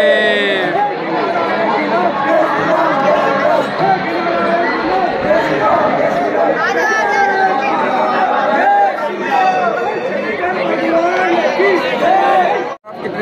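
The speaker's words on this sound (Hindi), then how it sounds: "और बाकी देख सकते हो कितने श्रद्धालु की भीड़ है" A dense crowd of devotees at Dudheshwar Nath temple on Mahashivratri fills the air with a loud, continuous babble of many overlapping voices close around, with no single speaker standing out.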